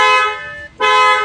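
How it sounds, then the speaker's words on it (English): A car horn on a freshly converted vehicle gives two sharp, loud toots close by, separated by a brief gap, with no talk over them. "Horn works okay."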